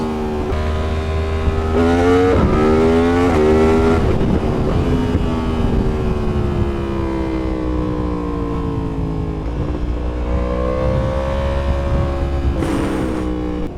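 A Yamaha MT-10 motorcycle fitted with a full Akrapovic exhaust roars loudly while riding, revving up through quick gear changes with rising and falling engine pitch, steady and close throughout.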